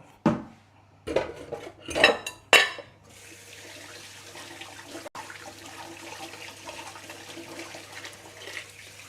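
Ceramic dishes and metal cutlery clatter as they are cleared away in a home kitchen while chicken stir-fry, egg sandwiches and lava cakes are being made. A few loud clanks come first, followed by steady running water from a tap.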